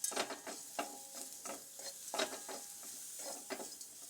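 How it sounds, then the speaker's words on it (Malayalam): Grated coconut dry-roasting in a pan without oil, with soft rhythmic scraping and stirring strokes of a spoon and a faint crackle, quiet and close. "വറുക്കുന്നതിന് എണ്ണയൊന്നും ചേർക്കാതെ നമുക്കിതൊന്ന് വറുത്തെടുക്കാം"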